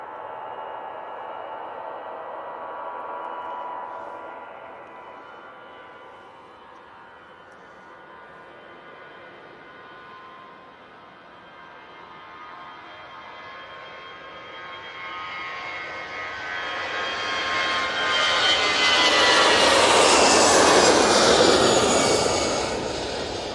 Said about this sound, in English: EasyJet A320 CEO now on the roll.